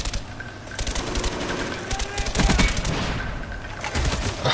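Rapid automatic gunfire bursts from the video game Call of Duty: Black Ops, loud and sustained across the whole stretch, with repeated volleys layered over game ambience and a heavier cluster of shots near the middle.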